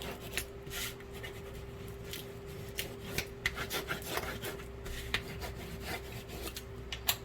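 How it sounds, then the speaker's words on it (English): A bone folder rubs firmly along the folds of a paper gift box, making quiet, scratchy back-and-forth strokes with small taps throughout, with no talking. "I'm going to get my bone folder and really rub them down"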